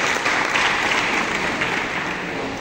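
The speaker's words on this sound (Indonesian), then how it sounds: "Tepuk tangan untuk Mas Angga." An audience at a student forum bursts into applause, a short, loud, dense patch of clapping from many people lasting a couple of seconds.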